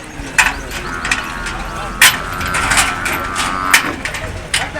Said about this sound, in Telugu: HF HF ఆవులు వచ్చినాయి.